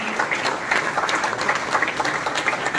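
An audience at a career talk in an indoor hall applauds to welcome a guest speaker, a former 2016 graduate. The clapping is dense and steady throughout, with no voices over it.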